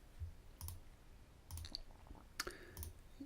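Quiet computer mouse clicks, a handful of sharp, isolated taps spaced irregularly while working in Ansys Workbench 18.1, close and faint against a near-silent room.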